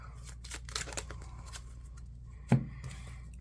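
Marvel Champions playing cards being shuffled by hand, a soft, quiet run of riffling and papery flicks with a sharper tap near the end, with no one talking.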